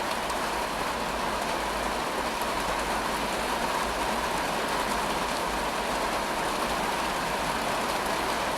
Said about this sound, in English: Love a good rainfall.